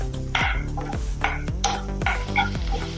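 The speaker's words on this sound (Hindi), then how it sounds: "इसलिए मसाले को अच्छी तरह से भुनना है।" Spice masala roasting in a pan for stuffed eggplant and potato curry, with a spoon scraping and stirring in steady strokes over a constant close sizzle, no voices.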